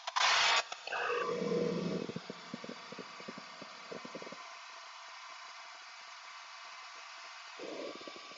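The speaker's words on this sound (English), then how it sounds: "I'm going to extend the cutter now, and I'm going to come at it from the front." A lathe duplicator cutter on a Shopsmith turns a faceplate-mounted workpiece, giving a loud burst of cutting then a steady mid-level motor hum with intermittent scraping ticks and a brief rougher cut near the end.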